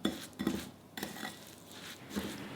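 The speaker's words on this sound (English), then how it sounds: "Then I mix everything with a spoon until I get the consistency of wet sand." A spoon scraping and clinking in a bowl while mixing crushed Oreo cookie crumbs with melted butter, irregular close-up taps and scrapes of metal against the bowl, with no talking.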